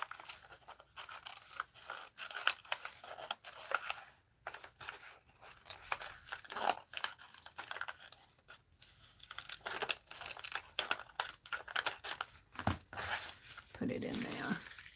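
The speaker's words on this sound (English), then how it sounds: "right now I'm just going to fussy cut this out" Scissors snipping paper for an art journal, a series of short crisp cuts and rustles of paper handled close by, irregular in rhythm, with a person talking intermittently over it.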